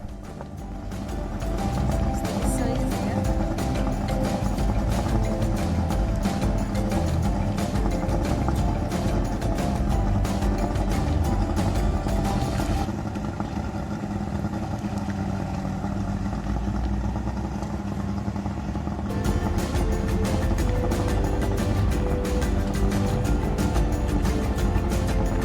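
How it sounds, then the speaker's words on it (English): A dinghy's outboard engine, its carburetor recently sorted, runs continuously on a sightseeing drive near islands, a loud steady droning buzz with rattling texture that barely changes pitch, no talking. "we decided to take our dinghy, as we had sorted out the carburetor, and take it for a long drive"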